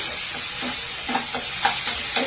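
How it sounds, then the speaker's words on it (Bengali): Pointed gourd stirred with spice paste in a hot pan, with a steady close sizzle and repeated soft scraping strokes of a spatula through the thick mixture, with no voices. "আমি পেস্টটা দিয়ে এটা নাড়তে থাকছি"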